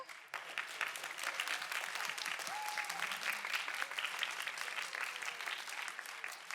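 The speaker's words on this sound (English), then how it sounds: "I would like to give another round of applause to all of our members, old and new." Applause from the audience at a thespian induction ceremony, steady moderately faint clapping from a room full of people with a brief tonal sound partway through.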